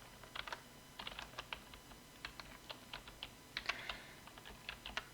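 Keys on a computer keyboard are typed in quick irregular bursts of light clicks with short pauses between them, close and quiet in a still room.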